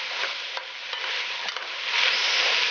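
Celery and green peppers sauté in a pot with other ingredients already in it, a steady broadband sizzle with a few scraping stirs, growing slightly louder and denser near the end.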